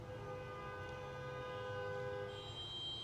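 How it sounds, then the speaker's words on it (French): Loud, sustained horn blasts from vehicles outside, held tones layered over steady background rumble for the whole stretch, with a second, higher horn joining near the end. "il y a des klaxons de ouf, là, en fait."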